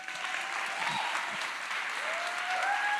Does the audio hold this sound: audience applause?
yes